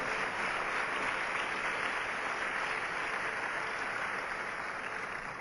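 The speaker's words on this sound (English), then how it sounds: "Let's give all of our performers another round of applause" An audience at a Rochester City School District presentation applauding student performers, dense continuous clapping from a crowd, steady and loud throughout, fading slightly at the end.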